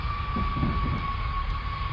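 A train in Train Simulator running downhill at high speed near 140 mph, a steady loud rumbling roar with a sustained whine, continuous and close without pauses.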